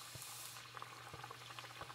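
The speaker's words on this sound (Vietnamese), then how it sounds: "Mình tiếp tục thêm bột vào nha, chiên nhiều cái một lúc cho nó lẹ." Bánh tiêu dough, made without leavening, frying in hot oil, with several pieces in the pan at once, giving a steady faint sizzle and crackle with small bursting pops throughout.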